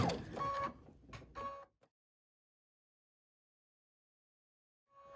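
A sewing machine stitches an invisible zipper in a brief run of mechanical whirring, then stops and leaves near silence before a faint sound returns at the end.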